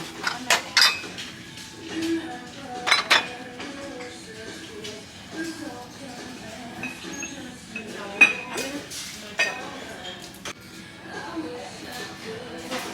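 Plates and dishes clink and knock together as they are handled at a secondhand shop, with scattered sharp chinks and a few louder clatters spread irregularly through the stretch.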